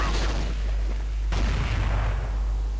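Counter-Strike gunfire sounds as loud, dense bursts of shots and booms, with a sharp fresh burst midway.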